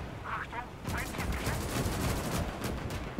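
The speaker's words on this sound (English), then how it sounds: "And now the attack is getting heavy. Shelling is continuing." Heavy shelling and gunfire in a Gates of Hell World War II battle near Moscow, with dense overlapping bursts and rumbling blasts rolling continuously after a brief quieter opening.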